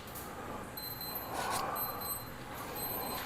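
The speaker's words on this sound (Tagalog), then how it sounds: "Nag-alarm na yung kay Jeff." An alarm goes off in an office with thin, high electronic beeps pulsing in a repeating on-off pattern over a steady background hiss, and no one speaks.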